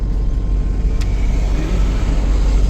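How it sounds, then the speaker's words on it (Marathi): A vehicle carrying the puja items for a palkhi foot pilgrimage to Shirdi drives off, its engine a continuous low rumble with road noise, fairly close and steady throughout. "ती पण गाडी निघाली पूजेची"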